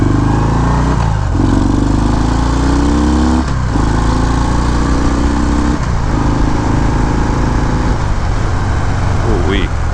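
A 2019 Harley-Davidson FXDR 114 with a new engine still in break-in is ridden on light throttle. Its loud, close engine drone shifts pitch with a few rises and dips between gears.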